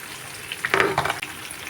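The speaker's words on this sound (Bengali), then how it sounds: "চুলার আঁচটা মিডিয়াম করে দিয়ে ভাজতে হবে।" Jackfruit bora pitha fritters fry in oil over medium heat, a close, steady sizzle with a louder bubbling burst as they are stirred.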